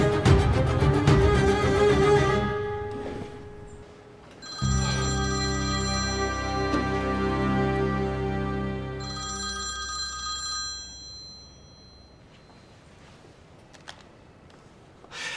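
A telephone bell rings in repeated bursts in an indoor drama scene, loud and clear at first, then a second ring pattern follows before it fades to quiet near the end.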